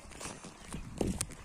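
Horses' hooves clop on the ground at a stable, giving several uneven knocking steps, moderately close, that grow louder toward the end over a noisy outdoor background.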